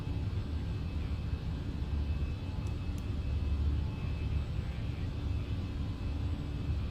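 Airbus A319 jet engines hum in the Fenix flight simulator during a departure climb, a steady low-pitched engine roar with a faint whine above it, continuous and fairly loud with no talking.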